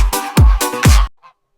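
A goose in a village with wooden houses honks four times in quick succession, loud and close, each call a harsh nasal blast, before it falls silent.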